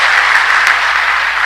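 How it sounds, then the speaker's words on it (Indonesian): A church congregation gives a short burst of clapping for women dressed in kebaya. The applause is even and fairly loud, with no voices in it. "Tepuk tangan dong untuk ini dulu."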